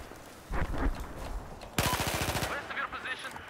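Rapid automatic fire from an AEK 971 rifle in Battlefield 4, a short burst and then a longer, faster rattling string of shots, loud and close over game ambience.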